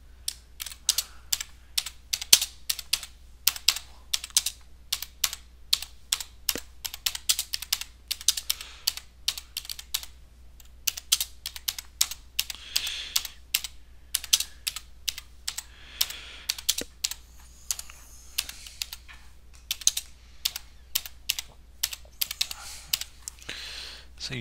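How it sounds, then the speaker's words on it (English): Steady, rapid typing on a computer keyboard while entering an image caption in LibreOffice Writer: dense, irregular clicks of individual keystrokes run continuously and close up, with no talking. "So you type the caption"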